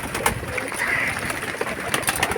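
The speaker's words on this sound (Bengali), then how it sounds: "কবুতরগুলো খেতে দিয়ে দিলাম" Pigeons coo softly while feeding against steady background noise, with faint flutters and pecking sounds mixed in throughout.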